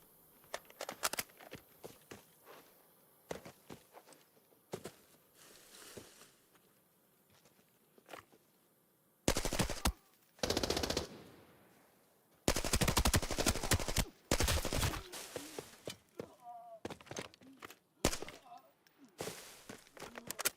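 Video game gunfire on burst mode, with scattered single shots and then short, loud clustered bursts around the middle and later, interspersed with footsteps and quieter gaps.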